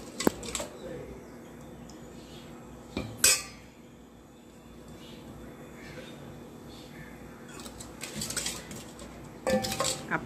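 Lentils are mixed for sambar in a metal pot. A spoon clanks against the rim in a few bright bursts, with quieter scraping and stirring between them against low room noise.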